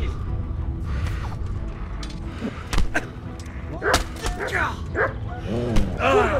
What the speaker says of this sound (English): I don't like fighting dogs.